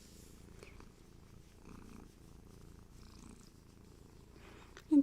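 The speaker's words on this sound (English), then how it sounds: "Brought us purrs." A cat purring softly and steadily in a quiet room, a low rhythmic rumble with a brief louder bump at the very end.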